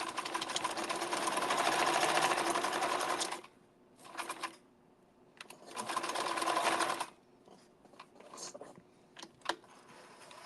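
A sewing machine stitches in bursts, running steadily for about three seconds, then shorter runs with pauses, and small clicks and taps between stitching spells.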